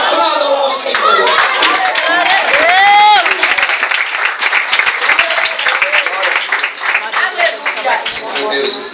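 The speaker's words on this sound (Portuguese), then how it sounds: "Aplaudam ao Senhor." A church congregation claps loudly and rhythmically in praise during a Portuguese-language sermon, with voices, cheers and a sung or shouted rising phrase mixed into the dense, close hand-clapping that carries on to the end.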